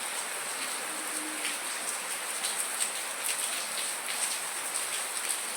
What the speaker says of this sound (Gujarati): જો વળી વરસાદ વધ્યો છે.